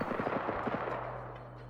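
Rapid burst of video game gunfire, a quick string of sharp shots in the first half that fades into a low hum, faint overall.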